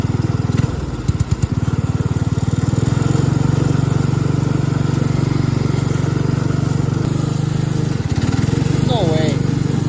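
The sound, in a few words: John Deere 56 lawn mower engine running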